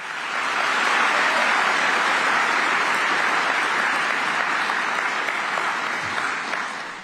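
A theatre audience claps at a comedy show, a thick, even wash of applause that holds steady for the whole stretch and fades slightly at the close, with no talking over it.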